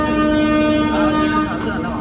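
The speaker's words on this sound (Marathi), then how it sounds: "ट्रेन चालली बाईच्या घरापासून एकदम ट्रेन जवळ आहे." A train passes close to a house in the Konkan region, its loud sustained horn sounding steadily over a rumbling, clattering roar.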